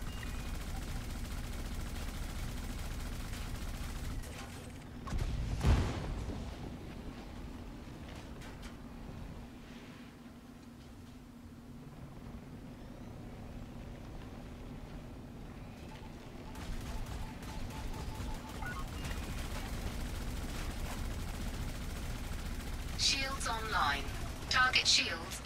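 A Scorpion ground vehicle's turret fires in Elite Dangerous Odyssey during an assault on a military settlement, heard as a few bursts amid a low engine drone, with a voice talking over the game sounds.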